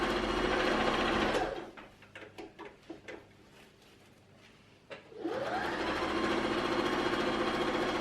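A sewing machine runs a quarter-inch seam down the side of a fabric stair tidy bag, whirring steadily and close, pausing briefly in the middle with a few short bursts before resuming continuous stitching.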